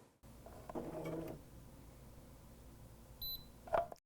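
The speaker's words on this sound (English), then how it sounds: "The beep will confirm programming." BERNINA L 660 sewing machine gives a brief, faint electronic confirmation beep near the end after a short mechanical whir, with no talking.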